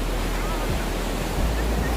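Sea waves at Corbyn Beach, a continuous broad wash of surf close by with some wind rumble on the microphone and no clear speech.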